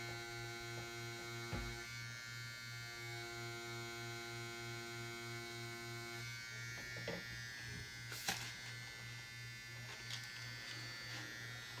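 A tattoo machine buzzes steadily on Reelskin synthetic practice skin while a large betta fish fin is tapered with an 11-needle, a constant close electric hum with a few brief clicks and taps.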